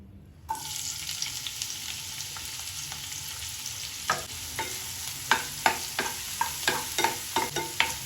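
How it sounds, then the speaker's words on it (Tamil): Two chopped onions hit hot oil and begin sizzling loudly, followed by a steady fry with repeated scraping stirs growing more frequent near the end. "ஆயில் சூடானதும் நறுக்கி வச்சுருக்கிற 2 வெங்காயம் போட்டுக்கலாம்."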